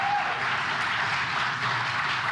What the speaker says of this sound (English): can I get a round of applause for Katrina?